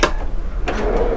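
A drawer aboard a Nimbus 495F boat slides and shuts, a short close scrape and clunk of the catch over a low hum.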